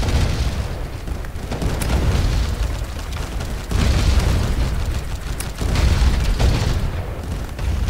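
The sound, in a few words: pirate ship cannon fire explosions in Roblox video game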